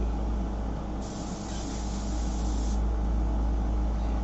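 An airbrush sprays paint onto shellac-covered paper, giving a steady close hiss that swells for a couple of seconds over a constant compressor-like background hum, with no speech.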